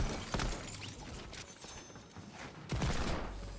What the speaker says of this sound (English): What is my gun sounding like this for?